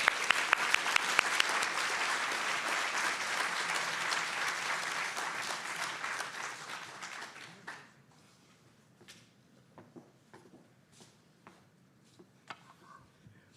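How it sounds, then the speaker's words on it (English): An audience at an evening congregation event applauds warmly, a dense burst of clapping lasting several seconds before fading into scattered claps and quiet room sounds. "Please join me in applauding her leadership."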